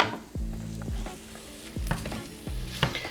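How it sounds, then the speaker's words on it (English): Hamburger meat sizzles in a hot pan while a utensil scrapes and stirs it in about four separate strokes, close up and fairly loud. "It's already starting to sizzle a little bit."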